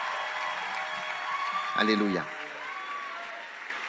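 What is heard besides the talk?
congregation applauding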